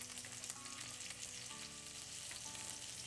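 Grass-fed steaks searing in a hot pan give off a continuous, even sizzle and crackle, quiet but close, with no voices over it.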